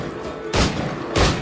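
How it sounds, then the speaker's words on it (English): Two heavy gunshot booms from the video game Assassin's Creed Black Flag, loud and close, spaced about half a second apart over a dense background rumble. "they're shooting"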